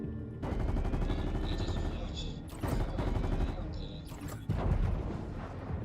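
Heavy, sustained automatic gunfire in Fortnite as asteroids are shot at, a dense rattling stream broken by a couple of short pauses and sharp cracks, loud and close throughout.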